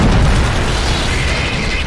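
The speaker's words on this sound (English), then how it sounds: "Oh, that's a big explosion." A large explosion in the sci-fi video game Alien Swarm, a loud, dense roaring blast that fills the whole moment and holds steady without dying away.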